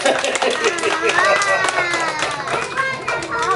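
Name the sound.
children clapping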